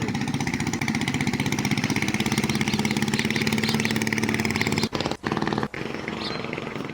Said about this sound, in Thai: มีเรือกำลังออกเลย